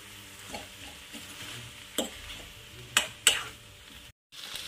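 Toor dal and chopped spring onion greens are stirred in a pan on the stove, giving soft scraping and sizzling with a few sharper clinks of the utensil against the pan.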